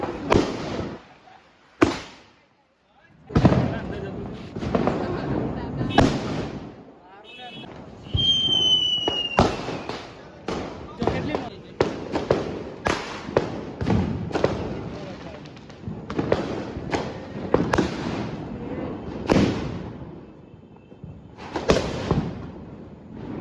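Diwali firecrackers bursting outdoors in a series of loud, sharp bangs and thumps, some close and some farther off, with a brief whistling rocket among them, while family voices talk and shout between the blasts.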